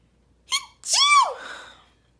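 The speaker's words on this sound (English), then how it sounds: "I feel like I have to sneeze." A single sneeze: a short sharp inhale followed by a loud burst that trails off, close to the listener with no talking.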